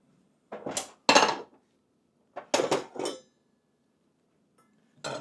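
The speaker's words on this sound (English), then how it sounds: "we're going to get it off our pan and onto the plate" A Denver omelette is slid from a pan onto a plate. Loud close clanks and scrapes of metal against the plate come in short bursts separated by silence.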